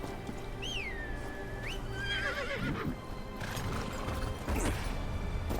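A horse whinnies once, loud and near, with a high rising-falling cry, followed by clip-clopping hooves and mechanical clatter in the video game Game of Thrones Kingsroad.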